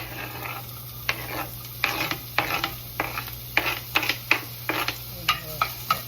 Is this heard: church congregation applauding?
no